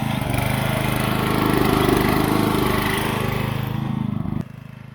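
Towford 38 ride-on mower engine running steadily up close, a loud continuous drone that cuts out abruptly near the end, leaving quiet.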